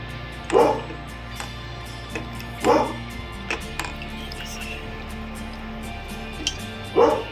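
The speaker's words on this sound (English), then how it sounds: "whenever any vehicle comes, they start, barking" Dogs bark in short bursts a few seconds apart over a steady background hum, somewhat distant, with faint clicks between barks.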